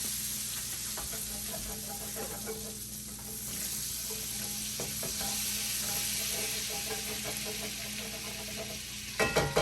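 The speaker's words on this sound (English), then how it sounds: "scrape up all of these delicious little brown bits of flavors" Browned bits are scraped up in a hot pan while making creamy garlic chicken, with steady sizzling and frying over repeated scraping and stirring strokes, and a sharper clatter near the end.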